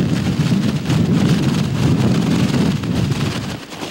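Strong wind with rain at a coastal seawall in Ilocos Sur, where huge waves strike the barrier: a loud, continuous roaring rush that buffets the microphone, with no talking.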